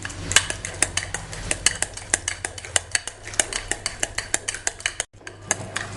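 A spoon scrapes and clinks steadily around a bowl while a mixture with sugar and salt is stirred, giving close, rhythmic metallic ticks over a soft background hum.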